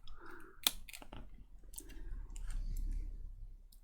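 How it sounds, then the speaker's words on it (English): A glued display bezel is pried and peeled off an HP 14-ce laptop by fingernail, giving soft close clicks and sharp snapping pops, then faint crackling plastic and adhesive noises, with no speech. "So to get this bezel off, I'm just going to get my fingernails underneath."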